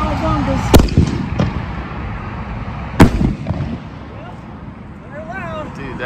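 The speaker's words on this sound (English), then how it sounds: "That's loud for a 4-inch can." A 2023 Cowabunga 4-inch canister firework shell bursts with a loud, sharp boom, followed by a second heavy report a couple of seconds later, both ringing out over outdoor background noise with faint crackling afterward.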